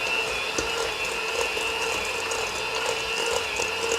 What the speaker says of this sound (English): Now I'm going to cream my butter and sugar together on low speed.